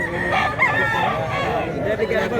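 Rooster crows at a place crowded with chickens for sale, a continuous raspy call rising over a dense bed of clucking and background murmur.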